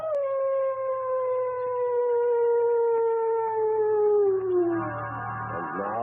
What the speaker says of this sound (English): with mad dogs howling in the background